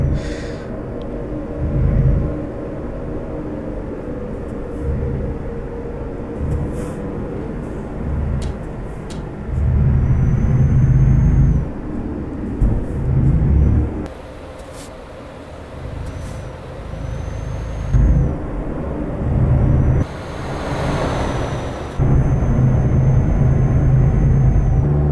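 A Hino Lohan 500 truck in Euro Truck Simulator 2 rumbles along with a steady low engine drone, swelling and easing as it drives, with brief hisses of air brakes and tonal whines from passing traffic, no voices.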